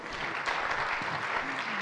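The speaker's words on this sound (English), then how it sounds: "One more round of applause." Audience applause for a panel session on Thailand as a platform for ASEAN travel tech, a dense, steady clatter of many hands clapping that fills the whole moment without a break.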